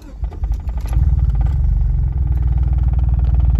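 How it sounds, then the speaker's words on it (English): A neglected car's engine idles roughly on a cold start, a loud, steady low drone with clattering as the revs sag and it falters. "And then the revs drop and it just conks."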